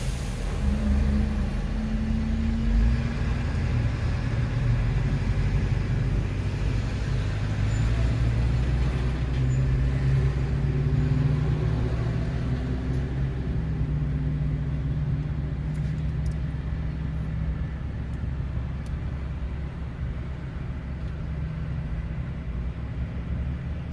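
Inside a moving car, a steady low engine and road rumble with tyre noise continues throughout, with no one speaking.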